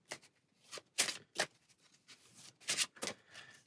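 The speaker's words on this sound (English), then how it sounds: "Give this a shuffle." Game cards for the Dice Throne Adventures board game being shuffled in several quick riffling bursts, crisp and close, with short pauses between them.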